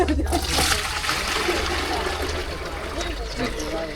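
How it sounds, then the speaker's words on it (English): Water draining straight down through a basin with floating leaves at the equator in Ecuador, a steady close gurgling and splashing rush that continues throughout, with people talking over it. "The water and the leaves goes straight down."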